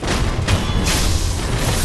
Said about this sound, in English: Through the fire explosion.